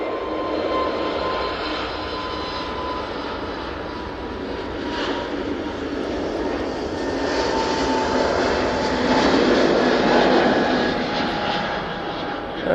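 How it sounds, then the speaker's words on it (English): An Airbus A320neo jet passes over an airport, a broad steady engine roar that swells slightly and lingers at moderate distance, with no talk over it. "There goes that A320 Neo"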